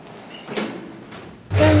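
Elevator doors sliding shut in a lift system with a British synthesized announcer, a soft mechanical swish and rumble followed by a louder thud as the doors close.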